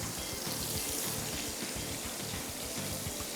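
Water poured into a frying pan that holds fried peanuts, forming a steady, soft splashing and trickling stream that runs the whole time, faint and without speech.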